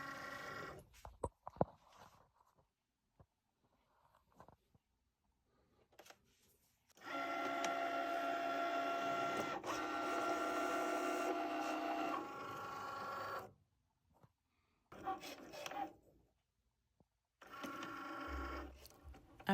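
A Cricut cutting machine with repaired rubber rollers feeds a mat and cuts permanent vinyl: intermittent motor whirs and clicks, then a sustained mechanical run in the middle and short bursts near the end, quiet and close.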